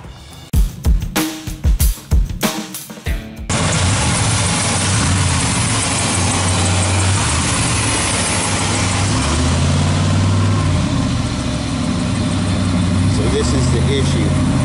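A 1959 GMC Fleet-Option pickup engine idling steadily after firing up, a low, even rumble that runs continuously for about eleven seconds, preceded by a few seconds of someone talking.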